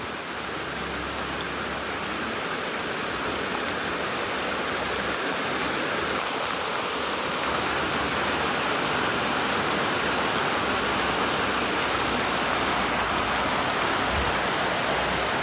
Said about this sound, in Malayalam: ഞാനും മഴ കൊള്ളുകയാണ് കേട്ടോ.